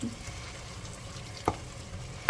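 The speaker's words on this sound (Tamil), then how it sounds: "நல்லா வதக்குங்க தக்காளி." Tomatoes and onions sauté in a pan for chicken dum biryani, a soft steady sizzle with a couple of brief clinks from stirring.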